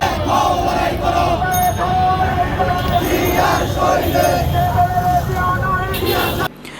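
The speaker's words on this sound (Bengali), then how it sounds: "সবুজ ক্যাপ পরিহিত নেতাকর্মীরা বিএনপি চেয়ারপারসন বেগম খালেদা জিয়া ও ভারপ্রাপ্ত চেয়ারম্যান তারেক রহমানের পক্ষে বিভিন্ন স্লোগান দেয়" Green-capped Chhatra Dal student activists at a district rally chant slogans for BNP leaders, a large crowd roaring in unison with repeated rhythmic shouts that stop abruptly near the end.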